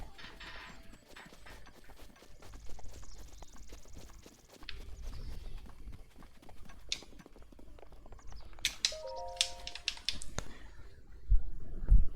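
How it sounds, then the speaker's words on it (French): Scattered plastic clicks and taps from a game controller joystick, irregular and close, with occasional electronic game sounds from Zelda: Breath of the Wild and brief talk. "On entend le joystick."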